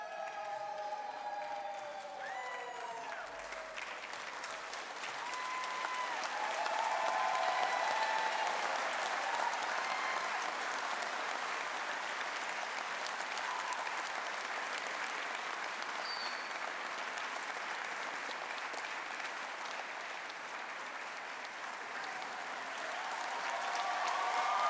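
Sustained applause from a large audience at a university graduation ceremony rolls on for about twenty-five seconds with faint cheers, swelling in the middle and again near the end.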